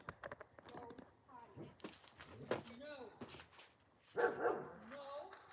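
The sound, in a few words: dogs barking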